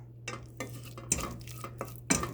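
Chicken korma mixed with chili and turmeric powder in a pan, several sharp scrapes and knocks of a spoon against metal in quick bursts over a low hum.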